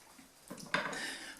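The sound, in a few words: pot lid being put on a pot of harira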